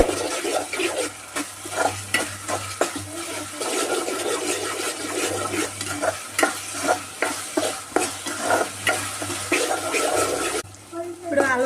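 Coconut and poppy seed paste frying and being stirred in a pan for a country chicken curry, with rhythmic close scraping strokes over a steady sizzle.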